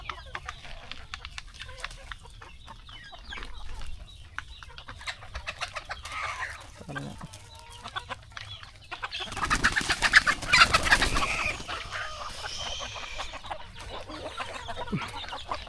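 Country chickens cluck and coo on a farm during morning feeding, scattered calls near and far over a quiet background, with a louder burst of flapping and clucking partway through and faint voices here and there.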